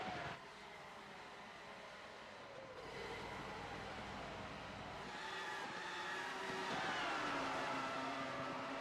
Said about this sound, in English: Listen to how much he has to get out of the throttle.